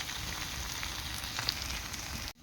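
Taki fish frying slowly over low heat in a Bengali village kitchen, a steady close sizzle and crackle that holds evenly throughout, with no voices.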